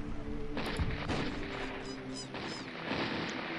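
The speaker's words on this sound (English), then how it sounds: "Fort's still shooting at us" Fort guns firing in Empire Earth II, a steady stream of muffled, overlapping gunshots and booms under dense battle noise at moderate distance.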